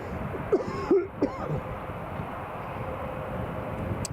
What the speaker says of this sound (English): Do apologise for the coughing, folks.